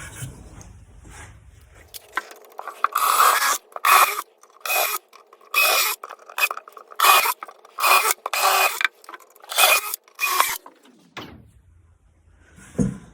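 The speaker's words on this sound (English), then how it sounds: "now I'm just going to drill these pilot holes" A drill bores pilot holes in a metal planter pan in about a dozen short, harsh bursts with brief gaps between them, heard up close and fairly loud.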